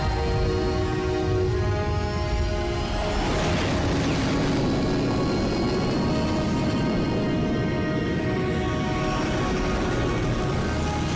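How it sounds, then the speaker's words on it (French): An animated aircraft from Code Lyoko fires up its vertical propulsion, a loud, sustained roaring engine whine with a rising tonal hum and a swelling rush partway through, continuous over several seconds with no talk. "Propulsion verticale enclenchée."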